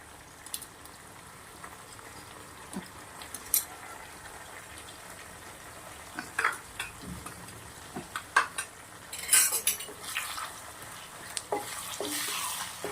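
Lemon potato masala is stirred in a pan with a spoon, giving quiet, irregular scrapes and clinks over a faint sizzle. A louder burst of scraping comes midway.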